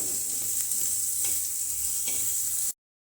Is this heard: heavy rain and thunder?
no